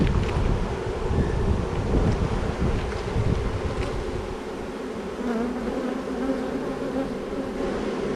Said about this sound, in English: You can see that, I've seen that before, that bee covered in orange.